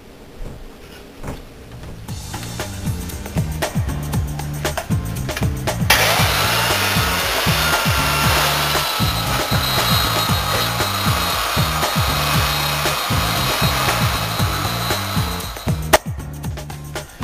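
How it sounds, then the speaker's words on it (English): A belt sander grinds old varnish off a wooden workpiece. A quieter rubbing start gives way to a loud, continuous abrasive roar with a steady motor hum that runs close and unbroken for most of the stretch before it cuts off near the end. "To get rid of the old varnish that's on here, I'm going to use a belt sander."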